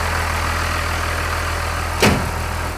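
A Cummins diesel engine swapped into a Cadillac idles steadily and close by, with a constant low rumble and one brief thump near the end.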